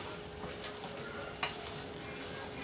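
Coconut filling roasting in ghee gives a soft, steady sizzle with faint stirring scrapes and one brief sharp clink, quiet and continuous with no voices.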